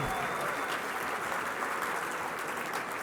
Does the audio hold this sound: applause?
yes